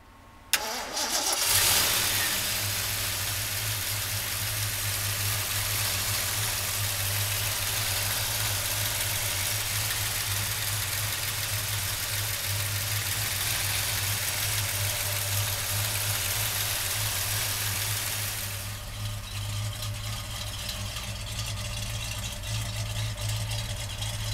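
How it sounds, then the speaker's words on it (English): A 1970 Mercury Cougar Eliminator with a 351 V8 cranks and fires up, then settles into a loud, steady, rumbling idle heard up close with no talk. "So come on up and we'll fire this Eliminator up."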